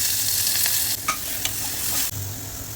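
Asafoetida, curry leaves and onion hit hot oil in a pan for a tempering, giving a loud, steady sizzle and crackle that runs throughout, with a brief dip near the end as ingredients are stirred.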